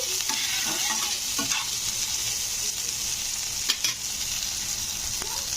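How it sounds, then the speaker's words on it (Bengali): Sliced onions and a green chili fry in oil in a pan, giving a steady close sizzle. Occasional spatula scrapes and taps break through, with a sharper clatter near the end. "পেঁয়াজটাকে একটু হালকা লাল লাল করে ভেজে নিতে হবে"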